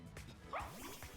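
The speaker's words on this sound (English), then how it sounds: "I got attacked by a bread dog." Short bark from a dog-like Pokémon in a Pokémon video game den raid, a sharp yip rising over a busy game soundtrack with a quick swoosh, moderately loud and brief.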